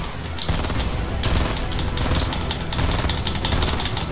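Rapid gunfire from the Fortnite video game rattles in loud, dense bursts, with sharp repeated shots and short gaps between volleys.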